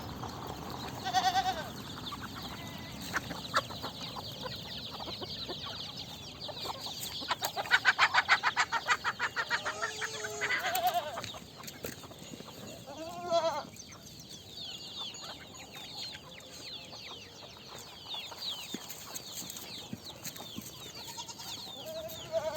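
Chickens cluck and goats bleat together on a livestock farm, a busy mix of near and distant animal calls over steady outdoor background noise, with a few louder bleats standing out.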